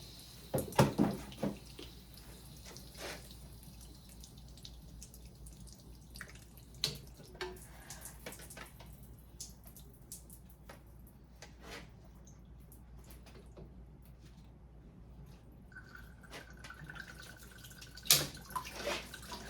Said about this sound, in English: See, when you change the pressure, how the relief valve starts to dump.